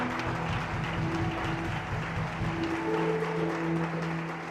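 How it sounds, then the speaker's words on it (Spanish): Congregation applauding at a church service in Tinaquillo, Venezuela, a steady mass of clapping over a low sustained organ or keyboard drone, with no voices standing out. "Denle un fuerte aplauso a Dios."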